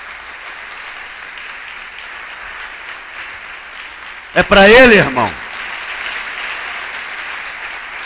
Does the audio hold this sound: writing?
no